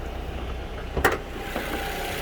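A 2016 Toyota Camry Atara S sedan idling with a low, steady engine hum. One brief click or knock breaks in near the middle, and nobody speaks.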